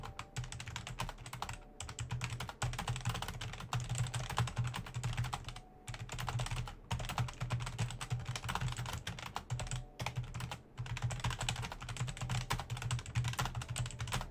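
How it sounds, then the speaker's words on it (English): Fast, steady typing on a loud, clicky mechanical computer keyboard picked up close by a microphone, a dense rapid clatter of keystrokes with only brief pauses. "he has a clicky-clacky keyboard, and he types so fast, and it sounds so loud because of his microphone"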